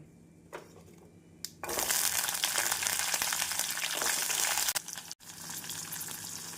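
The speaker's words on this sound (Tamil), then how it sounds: "கறிவேப்பிலை பொரியவும் நாம் உரித்து வைத்திருக்கும் 15 சின்ன வெங்காயம், 6 பல் பூண்டை போட்டுவிடலாம்" Small shallots and garlic cloves dropped into hot oil with curry leaves for an onion tamarind curry: quiet at first, then a sudden loud, dense crackling sizzle that continues close up with a brief stir.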